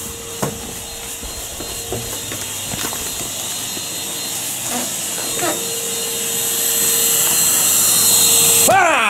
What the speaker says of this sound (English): Put the Hoover in your room.